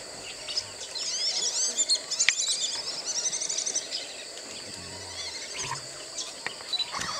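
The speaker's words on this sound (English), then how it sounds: "Real fighting amongst themselves, those birds and ducks or whatever they are." Birds and ducks squabble at Fogg Dam Conservation Reserve at dawn, a dense chorus of chirps, squawks and calls over a steady insect hum, moderately distant and continuous.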